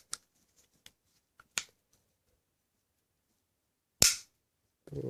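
A Walther .22LR Uzi upper being clicked back into place: a few small sharp metallic clicks, then a louder snap and a brief rattle, close up in a quiet room.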